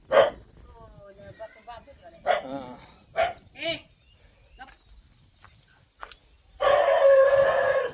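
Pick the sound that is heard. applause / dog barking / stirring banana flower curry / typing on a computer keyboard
dog barking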